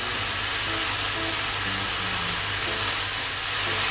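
Chikuwa and mushrooms with ginger stir-fried in a pan over medium heat, giving a continuous close sizzle with faint stirring movements underneath, steady throughout.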